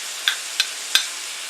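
Garlic sizzling steadily in a hot pan while cooking down for deer heart, with three brief sharp clicks of a spoon or pan standing out over the frying hiss.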